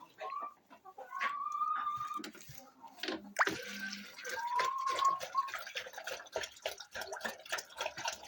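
Hens clucking and a rooster calling inside a backyard chicken coop, with several short tonal calls near the mic amid scattered rustling and plops; a voice speaks briefly in the background.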